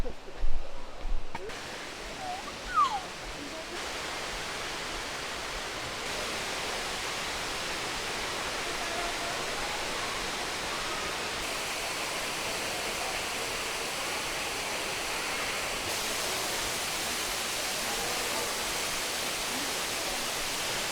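A waterfall at Pachmarhi hill station roars steadily and loudly from close below it, a dense continuous rush of falling water. A few faint knocks can be heard at the start.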